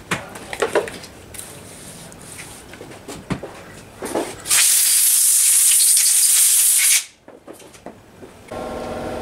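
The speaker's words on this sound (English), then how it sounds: "blow it off with some compressed air" Compressed air blasting dirt off a Dellorto carburettor from a Vortex Mini Rok kart engine, a loud sustained hiss of about two seconds amid workshop handling clatter, then a quieter hiss at the end.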